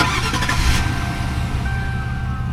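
A V8 car engine fired up for the first time since purchase, a quick starter burst settling into a steady, smooth idle close by.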